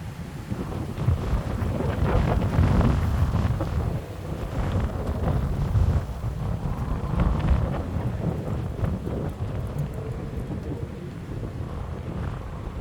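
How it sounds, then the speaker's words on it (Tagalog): Strong wind roars and buffets across the microphone in continuous gusts, a dense low rumble with no voices. "So windy talaga."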